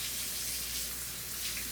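Tap water runs steadily while hands are washed in a kitchen during cooking, a close, even hiss and splash lasting the whole moment with no other sound.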